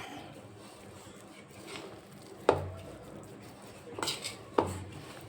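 Sweet potato peda ingredients, including sesame powder, being mixed in a bowl: a few sharp utensil knocks and scrapes against the bowl, spaced irregularly, quiet background in between.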